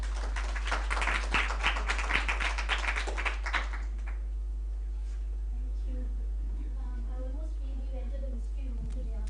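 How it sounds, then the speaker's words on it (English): A conference audience claps in a quick, lively burst for about four seconds, then it fades out and a speaker starts talking against a steady low hum. "A big round of applause, please."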